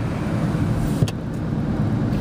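Steady low road rumble from inside a moving car, a continuous hum with one brief bump partway through and no talking.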